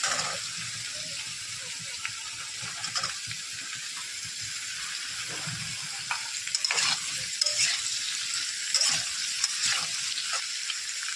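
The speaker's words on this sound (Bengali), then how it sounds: "ভাজা হয়ে গেছে, আমি এর মধ্যে কলাগুলো দিয়ে দেবো।" Pieces of plantain fry in a pan with a soft, steady sizzle, broken by frequent scraping and clinking stirring sounds that grow busier toward the end.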